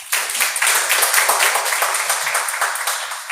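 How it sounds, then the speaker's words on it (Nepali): A congregation at a Christian sermon claps together in steady, dense applause for about three seconds, loud and close, with no talking over it. "ताली बजाउनुहोस् त।"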